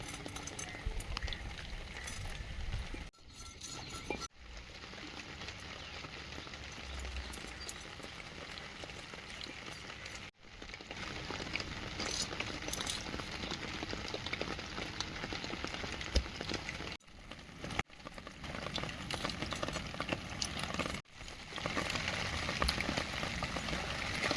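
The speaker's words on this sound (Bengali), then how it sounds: "আচ্ছা বৃষ্টিটা কন্টিনিউ ঝিমঝিম করে পড়ছে গো" Steady light rain drizzles outdoors by a home garden, a continuous soft hiss broken by a few abrupt cuts, with no voices.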